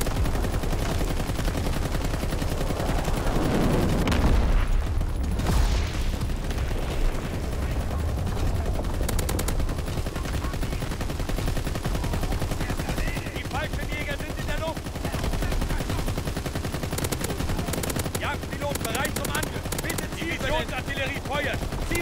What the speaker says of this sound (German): Divisionsartillerie feuert.